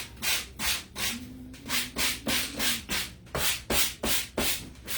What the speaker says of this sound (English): I'm going to sand a little bit to get that roughness off there.